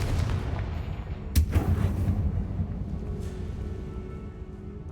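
A Confringo spell blast in the wizarding game Hogwarts Legacy: one sharp, loud burst with a booming tail, then a fainter second impact, over a steady low rumbling background.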